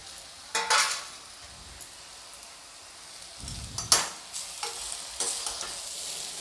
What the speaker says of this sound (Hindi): मटर को भी मैं डालकर इसके साथ ही भून कर तैयार करूँगी मैं।